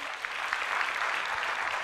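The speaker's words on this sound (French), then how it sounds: "Applaudissements pour mademoiselle." An audience in a café talk show applauds a young woman guest, a steady burst of clapping filling the room from start to finish with no speech over it.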